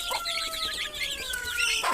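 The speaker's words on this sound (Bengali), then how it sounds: "এটা হচ্ছে আমার দেশি মুরগির খামার" Native (deshi) chickens cluck and chatter close by in a steady flurry on a poultry farm, with faint cheeping of chicks mixed in.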